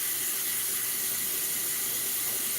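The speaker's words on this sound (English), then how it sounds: "let me put some water in this so it doesn't dry" Water running steadily from a tap into a container of glue during paper bag journal crafting, a continuous hissing splash close by, with no talking.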